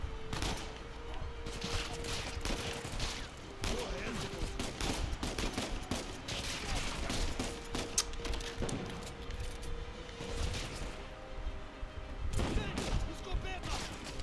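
Gunfire from Uncharted 4 crackles in dense, rapid bursts through a busy garage shootout, loud and sustained with heavy booming hits, while voices talk over the action.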